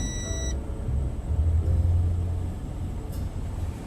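A truck slows to a stop with a low engine rumble that swells and then eases. A short high beep sounds at the start.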